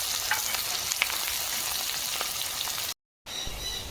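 Chopped onions, four large ones, frying in hot oil with dried chili, cloves, cinnamon and cardamom, giving a steady dense sizzle close up that runs unbroken until a brief dropout near the end, then resumes.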